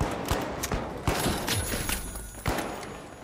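Rapid bursts of Pike-556 rifle fire in the shooter game The Finals, several close, loud shots spaced irregularly over constant game background noise.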